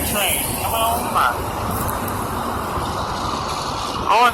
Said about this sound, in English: intermodal stack train coming on by.